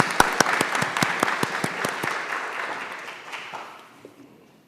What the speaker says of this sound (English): giving again an applause to the speaker